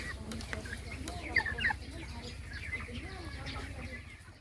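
Chickens on a meat-poultry farm cluck softly and continuously, with a few brighter calls standing out over a low, steady hum in the barn.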